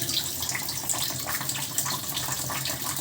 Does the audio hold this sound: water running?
yes